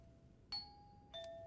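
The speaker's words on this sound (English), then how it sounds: "pressing the doorbell a bunch of times" Doorbell in an anime episode pressed repeatedly, giving two bright electronic chimes with ringing tones and a third starting at the end, fairly quiet over a low hum with no talking.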